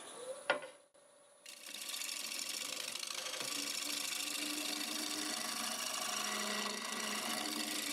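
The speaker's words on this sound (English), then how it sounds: "I think I'll just go ahead and use the negative rake scraper here" A negative rake scraper shaves the inside of a wooden piece spinning on a lathe. After a brief knock and pause, a steady, loud, rasping whir sets in and runs unbroken to the end.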